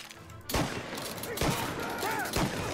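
Shotgun blasts in the Mafia: Definitive Edition video game, three loud booming shots spaced about a second apart over a steady game soundscape.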